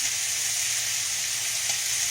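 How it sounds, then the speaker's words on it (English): Beef sizzles steadily in a pan for stroganoff, a constant bright hiss with no pauses, close and fairly loud with no talking over it. "It's frying up."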